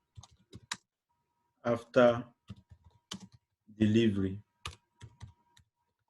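Computer keyboard typing comes in short bursts of clicking keys between stretches of a person talking, close and fairly crisp.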